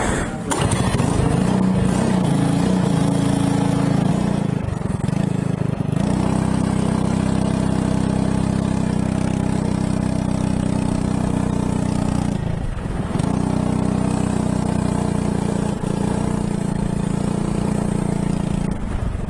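A go-kart engine runs steadily at close range, a loud continuous buzzing drone that dips briefly twice and otherwise holds an even pitch, with no speech over it.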